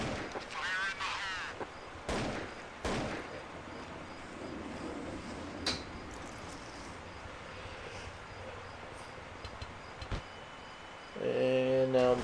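Flashbang detonation and gunshots in a first-person shooter video game, sharp bursts standing out early and mid-stretch over a quieter ambient game bed, with another burst near the end.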